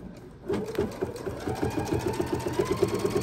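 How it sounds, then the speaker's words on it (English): A sewing machine stitches through thick quilt binding, starting after a brief pause and then chattering in a fast, even, close rhythm. "I'm going to sew about 5-6 stitches past where I started"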